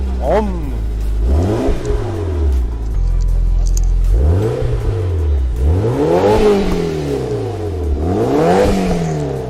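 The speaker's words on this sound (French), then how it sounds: "fais-nous écouter Voilà, ce petit échappement d'origine" A Mitsubishi Evo V with its stock exhaust revs repeatedly: four or five throttle blips rise and fall in a wave, close and loud, with an idle between them and people talking underneath.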